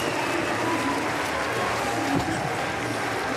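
Arena crowd at a Paralympic powerlifting event in Paris applauding a lifter, a steady dense wash of clapping and cheering held at an even level throughout, with one slightly louder swell near the end.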